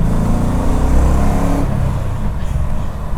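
The LS1 V8 in a swapped Nissan 240SX revs hard and loud from inside the moving car, a deep rumbling drone that eases off partway through.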